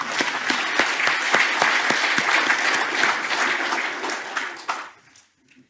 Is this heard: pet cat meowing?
no